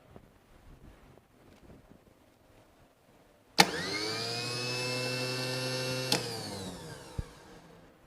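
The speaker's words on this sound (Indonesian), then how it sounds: "Lalu kita uji motor starter." A car starter motor under a bench test, powered through its terminal 50 wire, spins up suddenly into a loud steady whine for about two and a half seconds, then cuts off with a click and winds down.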